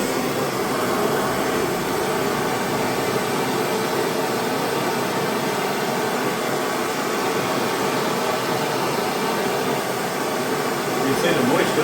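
A steady, loud broadband roar from a heat source held on a metal plate during rust repair on a Holden HQ GTS coupe, continuous and close throughout.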